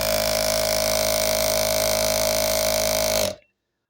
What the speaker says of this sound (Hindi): सबसे पहले मैं आपको इस मशीन की आवाज़ सुनाता हूँ कि ये अभी कितना आवाज़ कर रही है